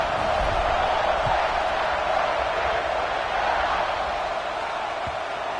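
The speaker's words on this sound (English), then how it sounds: "this crowd is buzzing after that last score" A football stadium crowd at an Auburn at Ohio State game keeps up a steady, loud buzzing roar after a touchdown and extra point, a broad continuous wash of many voices with no single cheer standing out.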